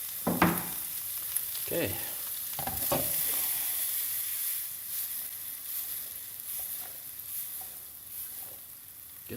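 Onions and celery sizzle steadily in olive oil in a pot for a rustic Italian chicken stew, with a few louder clatters of stirring near the start and a brief spoken word.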